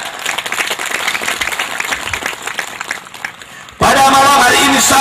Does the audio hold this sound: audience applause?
yes